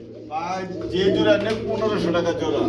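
Indian khaki pigeons coo close by in soft, throaty, rolling calls that overlap and continue through the clip.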